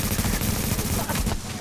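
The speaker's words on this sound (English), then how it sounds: "I'm shooting people, Sean." Rapid machine-gun fire in the Manhunt video game, a continuous loud, dense rattle of shots with a brief fade near the end.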